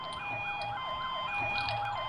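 A police siren wails in a rising and falling cycle inside the MTA San Andreas video game, steady and fairly prominent with a low engine rumble beneath.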